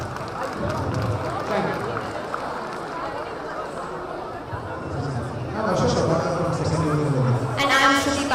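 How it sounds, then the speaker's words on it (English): Sustained applause and crowd noise from an audience at a college graduation day ceremony, a dense roar of claps and chatter that swells toward the end, with a brief spoken thanks over it. "A big round of applause, come on."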